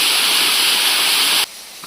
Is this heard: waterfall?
yes